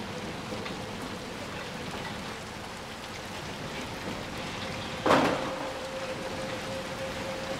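Heavy rain pours down steadily in the video game Little Nightmares II, a dense continuous hiss of drops on surfaces, with a brief louder thud or rumble midway and no voices.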